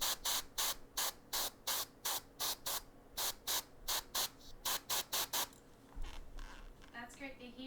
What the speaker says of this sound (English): I'm going to spray a little bit in here.